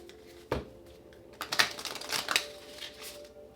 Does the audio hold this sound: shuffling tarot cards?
yes